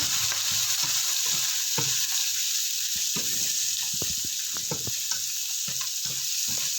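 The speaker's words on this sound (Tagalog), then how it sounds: "But you need to stir yung pang sauce." Sweet and sour sauce for escabeche tilapia being stirred in a pan: a steady, close hiss of cooking runs throughout, with soft scraping and clinking from the spoon against the pan, and no talking.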